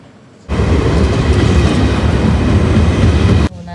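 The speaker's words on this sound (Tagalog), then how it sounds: "So, nasa train na kami." Train running on rails, a loud steady rumble with clattering wheel noise that starts abruptly and holds for about three seconds before cutting off, heard from inside the carriage.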